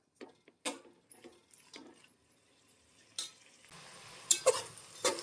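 Mixed vegetables are stirred in oil in a pot, with soft scrapes and clinks of a spoon at irregular intervals, followed by a faint sizzle and a few sharper knocks against the metal.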